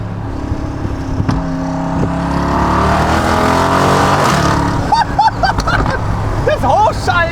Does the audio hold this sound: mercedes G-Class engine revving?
yes